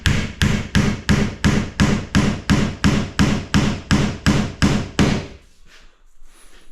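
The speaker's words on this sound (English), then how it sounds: "hit the timber like that" A hammer strikes timber near a door frame in a fast, steady series of about fourteen loud, sharp knocks, then stops, leaving faint rustling.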